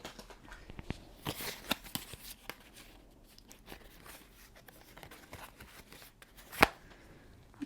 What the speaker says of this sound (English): I'm going to pull some other cards here.